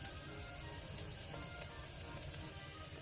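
Ginger garlic paste frying in hot oil with curry leaves and green chillies for tomato rice, a soft, continuous sizzle with occasional faint pops and crackles.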